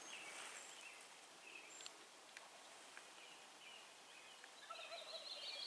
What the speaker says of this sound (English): a tom just gobbled 3 times